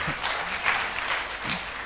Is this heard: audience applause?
yes